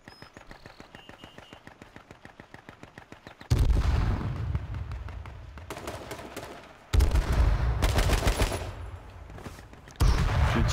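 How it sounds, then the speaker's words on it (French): Automatic gunfire in H1Z1 King of the Kill: a long rapid rattle of shots, then three loud heavy bursts of fire with booming blasts breaking in, close and dominant. "J'ai tiré une petite rafale."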